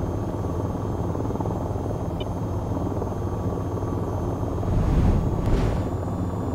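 Steady aircraft engine drone from a VTOL VR flight simulator running near maximum airspeed, a constant broadband roar with a brief louder swell near the end, no talk.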